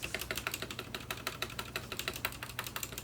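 Quick, even keystrokes clatter on an Anne Pro mechanical keyboard with freshly lubed switches, a rapid rhythmic stream of soft, close clicks with no voices.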